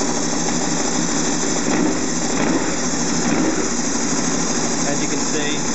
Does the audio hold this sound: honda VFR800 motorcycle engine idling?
yes